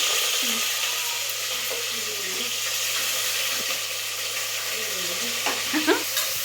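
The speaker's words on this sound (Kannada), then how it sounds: "ಈರುಳ್ಳಿ ಮೆಣಸಿನ್ಕಾಯಿ ಚೆನ್ನಾಗಿ ಫ್ರೈ ಮಾಡ್ಕೊಂಬಿಡೋಣ" Onions and green chilies fry in a pan for mushroom biryani, a steady bright sizzle with occasional scraping stirs and light clinks toward the end.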